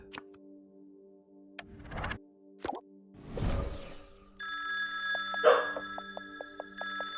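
A telephone rings inside the video game On Your Tail, a repeating electronic ring pulsing alongside soft plops and clicks over a quiet, steady game soundtrack.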